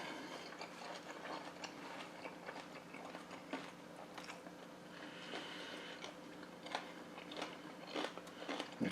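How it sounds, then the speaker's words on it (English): Quiet, crisp crunching bites and chewing of air-fried Southern fried cabbage, repeated irregularly at close range, with no talking. "The cabbage is still crunchy."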